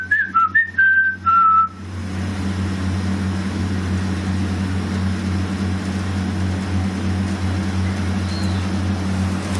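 A person whistles a short tune of a few descending notes, then a steady low engine drone takes over and continues.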